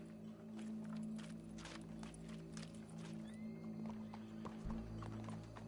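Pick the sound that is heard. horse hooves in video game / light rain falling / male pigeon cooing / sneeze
horse hooves in video game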